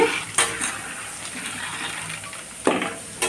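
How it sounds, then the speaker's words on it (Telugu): Lentils frying in foaming oil for a mixture snack, a steady sizzle and bubbling close by, with a few sharp clinks of a utensil against the pan. "ఇలా వస్తే వేపించిన పప్పు వేగుతున్నట్టండి."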